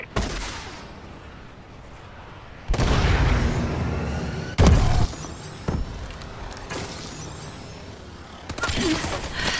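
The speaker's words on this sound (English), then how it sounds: "Friendly missile strikes incoming." Missile strikes land in a first-person shooter match: a few heavy booms arrive at intervals amid ongoing gunfire and game noise, with one sharp close blast standing out partway through.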